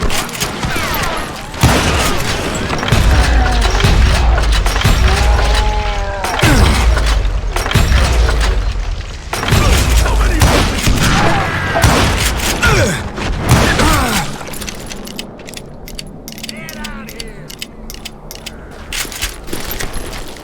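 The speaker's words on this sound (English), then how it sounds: "Kid Curry opened up on me with a goddamn Gatling gun" Rapid, loud Gatling gun fire in the Wild West shooter Call of Juarez: Gunslinger, sustained bursts of shots with booming impacts, then quieter mechanical rattles and clinks, with game voices talking over it.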